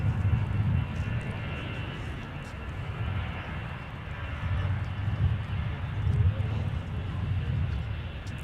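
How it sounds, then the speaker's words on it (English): An Aer Lingus Airbus A321XLR from Dublin arrives on the north side at Minneapolis–Saint Paul airport, a steady, moderately distant low roar of jet engines that swells slightly and holds throughout. "coming in on the north side, we got Aer Lingus from Dublin with A321XLR."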